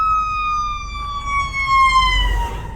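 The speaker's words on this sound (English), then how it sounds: "There's an ambulance coming." An ambulance siren wails steadily on Pacific Coast Highway beside a restaurant parking lot, its pitch sliding gradually downward as the vehicle passes, loud and close over low traffic rumble.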